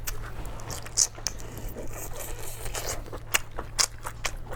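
Someone bites into crispy pork and chews, crackling crunches coming in short bursts with a couple of sharper snaps, close and fairly quiet over a low background hum.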